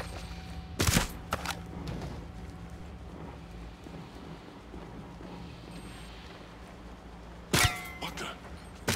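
Bursts of gunfire from attacking hostiles in Ghost Recon Breakpoint, two sharp loud volleys near the start and end over a quiet, windy ambient bed.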